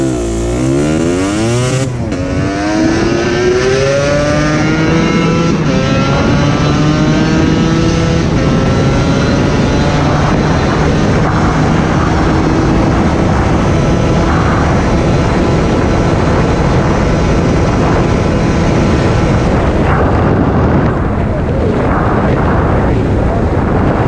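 A Kawasaki KDX 125 two-stroke motorcycle ridden in fourth gear, its engine loud and close as it revs up through the first seconds and then holds a steady, buzzing cruise with wind noise.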